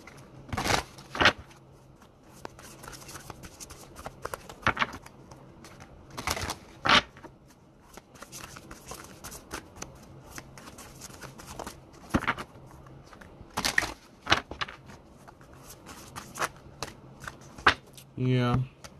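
Deadpool-themed cards being shuffled and handled, giving repeated short riffling bursts and soft slaps at irregular intervals, fairly close and moderately quiet, with a faint voice murmuring in the background.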